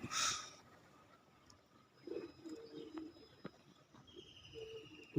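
Soft, low pigeon coos come in short bursts amid quiet background noise, after a brief sharp rustle at the start; a faint chirp appears now and then.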